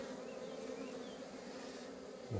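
A recovered honeybee swarm hums in a continuous, dense buzz, with individual bees droning close by over the steady mass of wingbeats.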